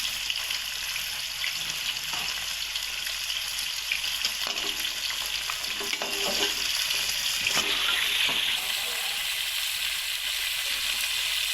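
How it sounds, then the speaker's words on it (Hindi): Chicken pieces fry in cooking oil for a white karahi, producing a loud, continuous sizzle and crackle that holds steady throughout with no voices. "चिकन को अच्छी तरह फ्राई करेंगे"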